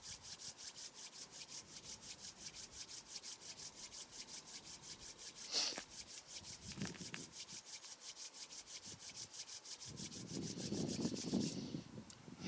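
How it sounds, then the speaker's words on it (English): Palms rubbing together during a qigong exercise session, a soft continuous swishing friction that rises briefly near the end, faint under a steady background hum. "Rub your palms."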